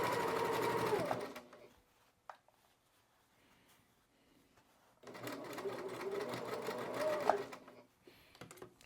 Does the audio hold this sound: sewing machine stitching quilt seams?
yes